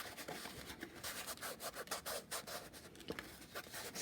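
Hands rubbing fabric flat onto a glue-covered box, producing soft, close scuffing and brushing strokes in an irregular rhythm with no talking.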